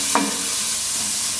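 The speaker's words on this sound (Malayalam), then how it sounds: "ഇനി ഇത് നമുക്കൊരു 2 മിനിറ്റ് ഒന്ന് ട്രാൻസ്പെറൻ്റ് ആവുകയോളം വഴറ്റിയെടുക്കാം" Finely chopped medium onion sautés in a pan for broccoli soup, giving a steady close sizzle with a brief scrape of stirring at the start.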